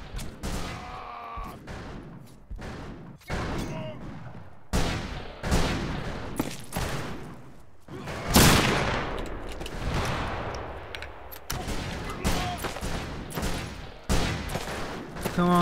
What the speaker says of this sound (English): Let's go up here and use the sharp rifle.